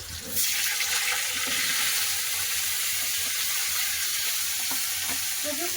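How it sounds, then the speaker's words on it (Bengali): Cauliflower pieces frying in oil in a wok, a dense, steady sizzle that holds nearly throughout, with light stirring knocks and no talk. "ভেজে নেবো কপি"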